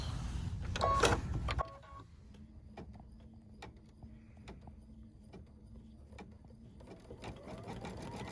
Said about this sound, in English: now embroider the days until Christmas text with any color thread